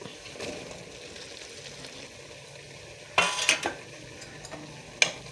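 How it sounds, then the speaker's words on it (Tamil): Half a kilo of chopped brinjal goes into a tomato masala gravy with a low sizzle, followed by a couple of louder scraping stirs of the spoon against the pan. "இப்போ நாம் அரிஞ்சு வச்ச கத்திரிக்காயை வந்து இதில் சேர்த்திக்கலாம்"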